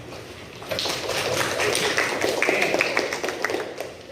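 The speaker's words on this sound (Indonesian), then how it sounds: "tepuk tangan dong" A group claps hands together in a classroom-style gathering, a dense patter of many quick claps building up and staying steady at close range, with a brief spoken word near the start.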